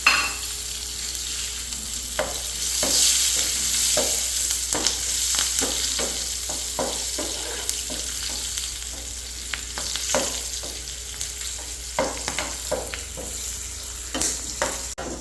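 Curry leaves and chillies sizzle steadily in a pan while a utensil scrapes and stirs in repeated short strokes, close by, with no talking.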